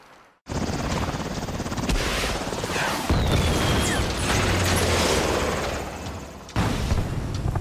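A helicopter in the video game Saints Row drones loudly and continuously with rotor whir and mechanical rumble, with a short jolt partway through and a burst near the end.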